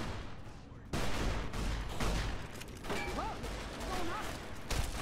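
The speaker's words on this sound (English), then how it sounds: "I hear guns!" Dense volleys of gunfire in Fallout: New Vegas during the battle for Hoover Dam, a continuous loud barrage with bursts rising after the first second, and a voice speaking faintly beneath it.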